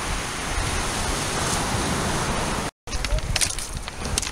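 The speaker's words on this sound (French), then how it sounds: "ça fait des petites vagues comme ça qui viennent déferler" Small ocean waves breaking on the shore of Hoste Island, a continuous broad wash of surf with a brief gap, steady and fairly loud, with faint wind.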